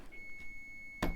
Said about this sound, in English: you guys get to keep hearing my dinner beep